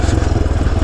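A Honda C90-based pit bike engine rattles and burbles under engine braking on an off-road ride, a close, steady, pulsing motorcycle drone.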